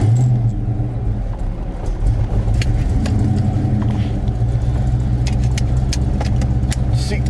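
A loud car engine idles steadily after starting, a deep continuous rumble filling the cabin with light rattles and clicks on top.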